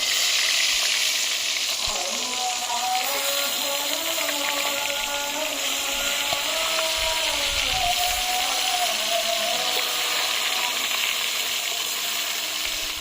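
Bhetki fish pieces fry in hot oil with a steady, continuous sizzle and crackle throughout, close and fairly loud, with a faint tonal hum and occasional stirring clinks underneath; no one speaks.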